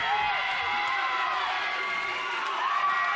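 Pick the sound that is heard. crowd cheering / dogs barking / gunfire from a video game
crowd cheering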